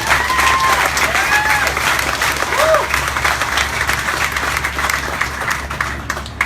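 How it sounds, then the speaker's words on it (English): Sustained applause from an audience at a community awards event honoring a nominee, steady dense clapping throughout with a low hum underneath and a few brief tonal squeaks. "Please give her a round of applause."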